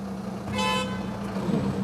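A car horn gives a single short toot in street traffic during the towing of a crashed Audi. It is a brief, moderately loud honk over a low engine hum.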